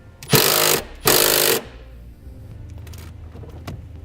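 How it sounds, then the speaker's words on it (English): A 10mm nut being tightened onto a ground stud on a 2014 Jeep Wrangler during a brake-light relay install: two loud, close bursts of powered whirring, each about half a second long, followed by quiet background rattle. "And we'll tighten that back down."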